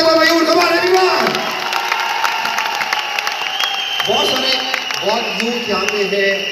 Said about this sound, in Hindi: मैं चाहूंगा एक बार जोरदार तालियां फॉर मयूर